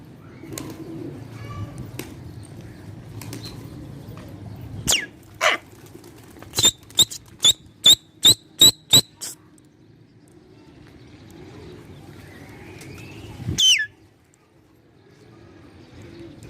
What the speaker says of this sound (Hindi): चले दोस्तों, कबूतर उठा रहे हैं अभी।